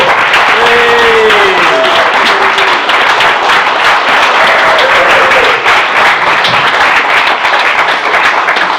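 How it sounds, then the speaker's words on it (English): A brewery crowd in Gloucester bursts into loud, sustained applause at an evening show, dense clapping that fills the room for several seconds and rolls on evenly, with a few raised voices briefly rising through it. "if we could start the applause at the back. Bring it all the way through to the front"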